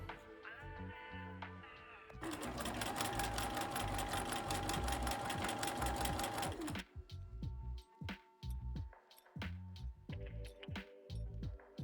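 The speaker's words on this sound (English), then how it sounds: "You just sew along the neckline." A sewing machine stitches along a garment neckline in a steady, fast whir for several seconds, then slows into short separated bursts of stitching with pauses between.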